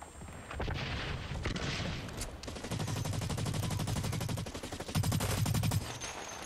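Rapid automatic gunfire rattles in the shooter game Blacklight Retribution, several sustained bursts close together with short gaps between them, loud and alone without talk.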